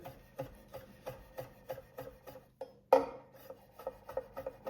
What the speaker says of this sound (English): So while I'm doing this rock chopping here